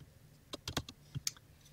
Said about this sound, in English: we can type just by touching the screen and typing